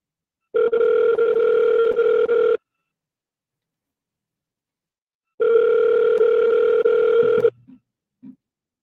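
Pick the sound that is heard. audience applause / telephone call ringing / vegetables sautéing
telephone call ringing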